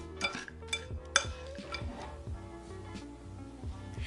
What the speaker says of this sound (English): Add your vegan chocolate chips and mix again.